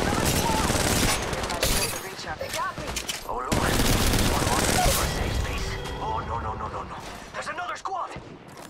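Video game gunfire in Apex Legends: dense, loud bursts of rapid automatic shots crackle almost continuously, with brief pauses between volleys.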